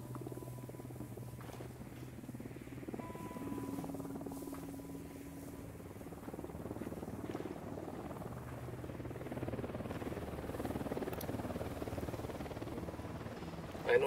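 An Unidad helicopter in Ghost Recon Wildlands, its low rotor drone and buzz holding fairly steady and moderately close under the game's ambient sound for the whole stretch.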